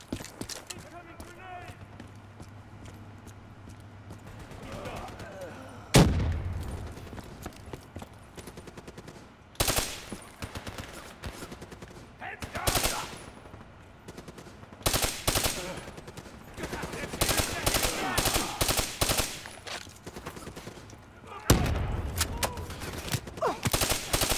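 Gunfire in the video game Call of Duty Black Ops 3 comes in sharp bursts and rapid volleys between quieter stretches, with a voice speaking over the action.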